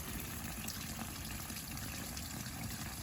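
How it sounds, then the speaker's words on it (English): A steady, continuous trickle of running water in a garden nearby, an even bubbling flow with no voices or breaks. "So look at this, a little bit of running water"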